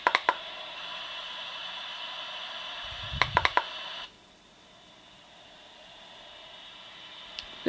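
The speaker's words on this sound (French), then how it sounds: "Là c'est le bruit des vagues" A baby sleep aid device plays steady ocean wave white noise, a continuous hiss that drops in level partway through, with a few sharp button clicks.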